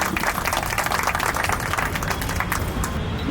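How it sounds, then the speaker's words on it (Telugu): Audience applause at a gathering of a devotional chanting association, a dense steady patter of many hands clapping that continues loud and unbroken throughout. "అందరూ గట్టిగా చప్పట్లు కొట్టాలి"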